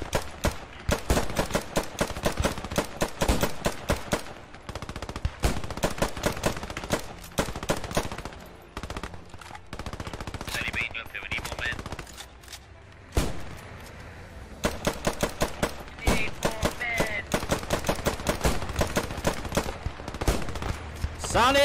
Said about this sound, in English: open fire on that wooden bridge, open fire on that wooden bridge